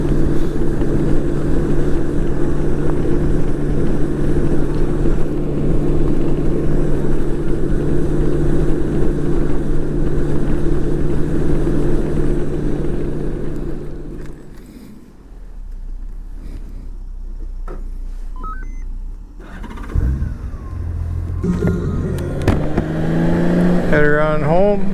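A Honda GL1800 Goldwing motorcycle on the road: a steady, loud engine and wind drone for about fifteen seconds, then it dips and eases as the bike slows, with some brief talk near the end.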